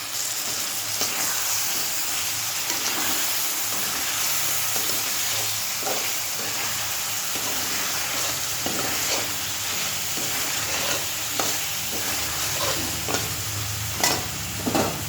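Chili powder tossed onto vegetables in a hot pan sizzles steadily and close up, with scrapes of a spoon stirring through the fry for the whole stretch and no talking.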